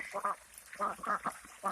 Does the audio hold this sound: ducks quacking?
yes